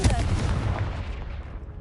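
A Confringo spell explosion in a video game, a loud blast that booms and crackles, then decays over nearly two seconds into a fading rumble.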